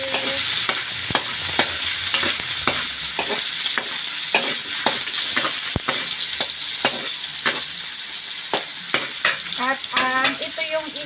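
Tomato is sautéed in a frying pan with a steady hiss of sizzling oil, broken by frequent clinks and scrapes of a utensil stirring the pan, close and continuous.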